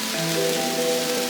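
Rain trickles down on an evening outing at BeWilderwood Cheshire, a steady even hiss of drops on surfaces with faint tonal background sounds and no talking.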